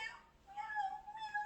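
A storyteller's voice imitates the tiny mews of kittens up in a hayloft: a few high, thin, wavering calls in quick succession, close and clear.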